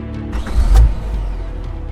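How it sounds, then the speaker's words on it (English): A car ignition being turned on, heard as a short mechanical creak and ratcheting click close by, swelling briefly to a low rumble before fading. "3 p.m. the next day, as their target Daphne sits in a car and turns on the ignition."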